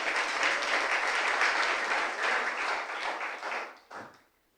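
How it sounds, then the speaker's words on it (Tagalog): A church congregation in Manila breaks into dense, sustained applause for the Lord during a sermon, the clapping swelling loud and steady for several seconds before fading out. "Palakpak sa Lord."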